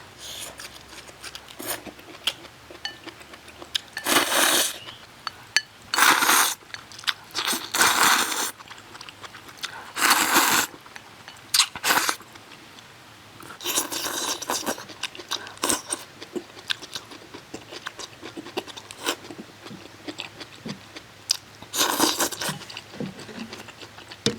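Loud close-up eating sounds as bones are gnawed and sweet potato noodles slurped, in repeated bursts of wet crunching and sucking separated by short pauses.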